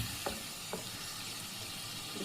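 Pieces of liver sizzle in hot oil, a soft, steady hiss close by with a few faint knocks, and no one speaking.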